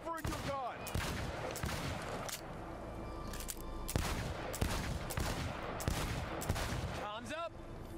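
Rapid gunfire at a timed shooting range in Cyberpunk 2077, sharp repeated shots in dense bursts with brief gaps, loud and close, while voices and game sounds run underneath.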